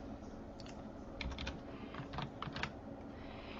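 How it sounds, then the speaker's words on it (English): Faint computer keyboard key presses for a Control-plus zoom shortcut while working in Photoshop come as a few soft, scattered clicks over a steady low hiss. "How I zoom in is by my keyboard shortcuts of Control and then the plus sign."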